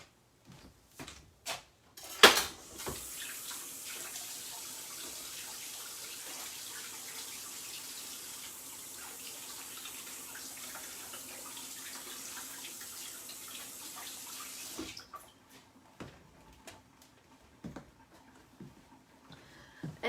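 Kitchen tap running steadily for about twelve seconds while washing up during cooking, a continuous close hiss framed by clinks and knocks of dishes before and after.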